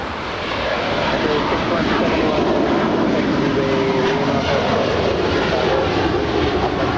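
A Qatar Airways jet airliner on its takeoff roll down runway 25 right at LAX gives off a steady, loud broadband engine roar that holds strong from start to finish, with faint voices underneath.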